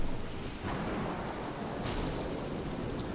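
Thunder and rain in the video game Don't Starve Shipwrecked after a lightning strike: a steady, dense roar of rain with a low rumbling swell that starts just after the first half second, loud and continuous with no talk.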